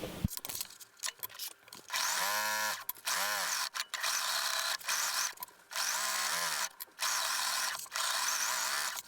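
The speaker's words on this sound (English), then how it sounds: "Sew it together on your regular sewing machine using a straight stitch." A regular sewing machine runs a straight stitch on fabric for a knitting pouch, whirring in several bursts of a couple of seconds each with brief stops between, close and fairly loud.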